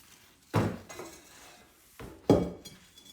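New plant pot being handled for potting a peace lily, two distinct knocks or clunks as it is set down or moved, close and separated by a short pause.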